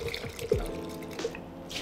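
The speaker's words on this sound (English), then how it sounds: "Empty out your water" Brief splash and trickle of preheating water being emptied out of cups, a couple of soft pours and drips heard up close and faint.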